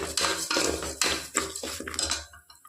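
Moong dal being dry-roasted in a pan for sweet pongal is stirred with a spoon, giving close, rhythmic scraping and metallic clinks in repeated strokes with no talking.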